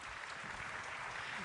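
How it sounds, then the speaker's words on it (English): An audience claps steadily at the close of a ministerial discussion, with a dense, even patter of many hands heard in a short burst and no pauses. "Clearly, I'm going to clap to that."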